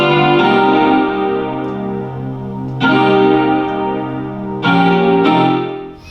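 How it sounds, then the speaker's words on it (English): A lush Omnisphere ballad guitar stack patch plays sustained chords, three strummed attacks ringing out with a shimmering chorus-like, effected tone, loud and close. "along with this guitar patch here, an omnisphere ballad guitar stack"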